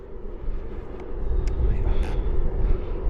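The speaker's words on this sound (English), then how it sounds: "I'm just watching the drone again now." A drone flies overhead above a cement works in Scotland, with a cement truck nearby. It gives a steady, fairly loud motor hum with a broad whine that holds level for a few seconds, alone.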